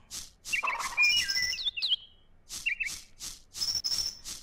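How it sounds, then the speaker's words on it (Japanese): Chirping bird calls in the video game moon: bright, quick tweeting phrases repeating in bursts over a soft ambient background, fairly close and clear, with no talking. "あの鳥の音かな？"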